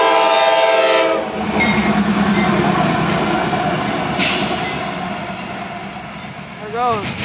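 A CSX diesel freight train with light engines rumbles past Palmer Street Crossing in Plant City, Florida, with a loud horn blast at the start, steady rolling and clattering, and a short bird chirp near the end.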